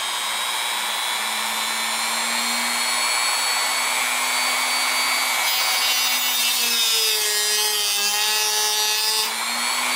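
A small rotary tool grinds steadily and loudly at close range, cutting a notch into a stripped screw on a knife, its high whine shifting pitch slightly as it bites into the metal.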